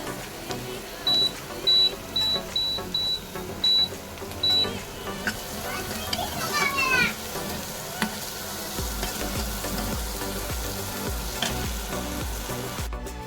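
Food fries and gets stirred in a home cooking pan under a steady sizzle. A short run of high electronic beeps comes first, then a clear scraping stir midway, with a busy background throughout.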